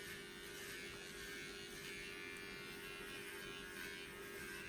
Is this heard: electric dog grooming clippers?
yes